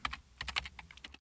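Quick burst of keystrokes on a computer keyboard while entering a crontab command at a command line, close and crisp with no talk.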